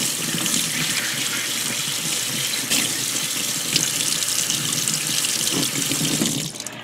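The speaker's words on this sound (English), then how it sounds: "I'm going to continue making sure that it's completely well rinsed" A paint brush being rinsed under a running tap, steady hissing flow of water into a sink with small splashing shifts as the brush moves, loud and close throughout with no talking.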